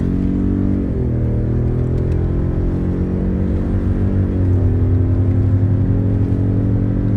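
A Ford Raptor F150 pickup running on LPG through a Prins VSI DI gas system drones along loudly and steadily, its engine note shifting pitch slightly a couple of times while cruising.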